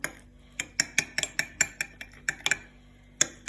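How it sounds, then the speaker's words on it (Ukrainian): A spoon stirring baking powder into kefir in a bowl, giving rapid, irregular clinks and taps against the bowl's sides, close and fairly crisp, with no talking. "до кефіру додаємо розпушувач перемішуємо його"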